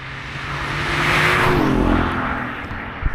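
A BMW i8 launching from 0 to 60 in under four seconds, a rising engine and electric-motor whine that swells loudly then fades away, with wind and road rush.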